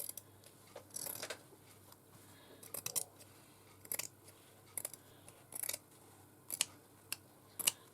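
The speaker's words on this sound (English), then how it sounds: "Using the wrong scissors there, the paper scissors" Paper scissors cutting fabric for a stitchery journal, a sequence of sharp, snipping clicks at irregular intervals, close and fairly quiet against a faint room hush.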